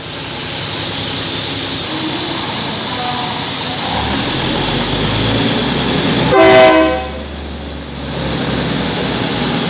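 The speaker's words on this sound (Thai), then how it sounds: "ไปแล้วครับสำหรับขบวนรถ พิเศษโดยสารนะครับขบวนที่ 1118 นะครับ" Special passenger train 1118 pulls out of Taling Chan junction station on its run from Nakhon Pathom to Thonburi, a loud steady rumble of rail cars with a brief horn blast partway through.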